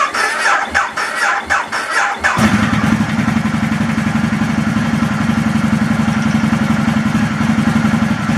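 A 2014 Ducati Multistrada 1200S with a MAP sensor fault cranks in short, uneven bursts for about two seconds, then catches and settles into a loud, steady, close-up idle with a dense rumbling pulse.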